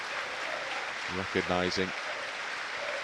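Home supporters in a stadium at a Luton Town versus Leeds United football match keep up a steady, distant wash of applause while a commentator speaks briefly over it.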